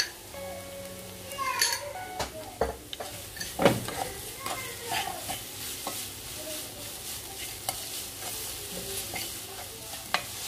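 Banana and coconut filling with sugar sautéing in a pan, a soft steady sizzle broken by scraping stirs and occasional clinks of a spoon against metal, close and moderately quiet.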